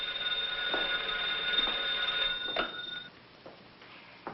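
A telephone rings in an old film scene: a steady electric bell tone holds for a few seconds, then fades, with a couple of soft clicks and no talk.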